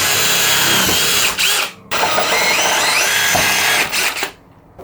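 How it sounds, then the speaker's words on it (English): A power drill whirs in two bursts, spinning up and boring pilot holes through a wooden door, then stopping, with brief pauses between. "we're going to start off by drilling two pilot holes"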